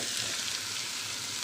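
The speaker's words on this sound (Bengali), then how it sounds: "সকালের নাস্তার জন্য আলু ভাজি করে নিচ্ছি।" Potatoes frying steadily for aloo bhaji at breakfast time, a dense, even hiss of hot oil holding close and constant with no voices over it.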